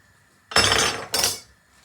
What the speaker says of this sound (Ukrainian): Масло є, цибулю висипаємо.